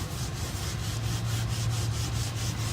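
Scraper drawn lightly across raw wood fibre during a spot repair on a wood floor, giving a steady, close, continuous rubbing scrape with faint rhythmic strokes and no talk.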